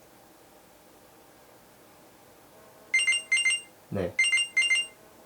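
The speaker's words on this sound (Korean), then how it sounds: "보이시는 바와 같이 알람이 울리게 됩니다" A Samsung Galaxy Watch Active2 rings its find-my-watch alarm in repeated bursts of bright electronic tones, two pairs split by a short low thump, over a quiet room. A voice says a brief word just before the last bursts.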